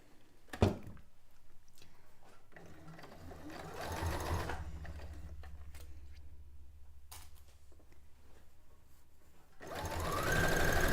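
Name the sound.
sewing machine stitching fabric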